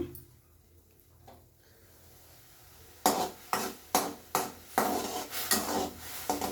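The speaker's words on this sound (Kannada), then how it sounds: "ಮಸಾಲ ಸ್ವಲ್ಪ ಫ್ರೈ ಆಗಲಿ" Ground masala frying in a pan for a ridge gourd dish, heard as a run of rhythmic, loud scraping and stirring strokes that begin after a few seconds of near quiet.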